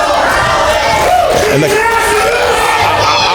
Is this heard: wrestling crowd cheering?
yes